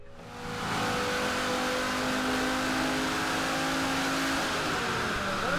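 A high-mileage Volvo 850 with about 300,000 miles revs hard and steadily on a chassis dynamometer, its loud, sustained engine roar holding near and constant throughout.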